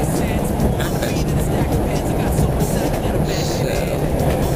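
A commuter train travelling from Norristown toward Suburban Station in Philadelphia gives off a continuous loud rumbling roar with rattling and clatter from the carriage, with faint voices here and there.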